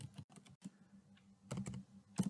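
Close, quick keystrokes on a computer keyboard as Python code is typed, irregular clusters of clicks with a faint hum underneath and no voice.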